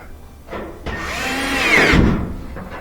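A power drill drives a screw back into a Whirlpool gas dryer's panel, its motor whine rising in pitch over a couple of seconds and then stopping, close and fairly loud.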